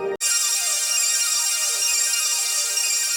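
Big sustained chord on an Oberheim OB-6 synthesizer, its state variable filter slowly swept so the bright, buzzy tone shifts and moves over several seconds, loud and alone after a brief cut at the start.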